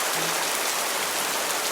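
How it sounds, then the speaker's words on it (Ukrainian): Autumn rain pours down as a steady, dense hiss of drops on surfaces, even and unbroken for the whole moment, with no voices. "А це шуми дощик осінні."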